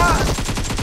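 A quick burst of rapid automatic gunfire in a video game, loud and close, lasting under a second.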